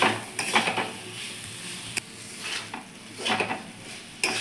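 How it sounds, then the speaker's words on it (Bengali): Fried potatoes get stirred into cooked masala in a pan for a Bengali cabbage dish with katla fish head. A spoon scrapes and clinks against the pan in several separate strokes over a soft, low sizzle. "এবার আমি ভেজে রাখা আলুগুলো দিয়ে দেবো। ভালো করে একটু নাড়াচাড়া করে নেব।"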